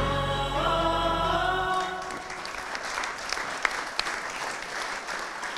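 Audience at a conference on energy and competitiveness applauding, a dense steady clapping that rises out of a fading electronic tone and carries on at moderate level to the end.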